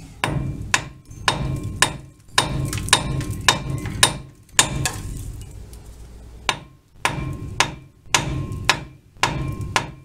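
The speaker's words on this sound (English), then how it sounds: "wedge it under there and drive it in with a big hammer" Repeated sharp metallic hammer blows driving a tie rod end puller wedge on a Ford F150 front end, in quick bursts of three or four, close and loud, with short pauses between groups.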